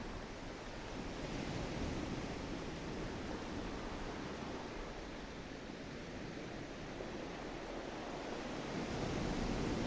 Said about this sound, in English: you notice the rhythm of the ocean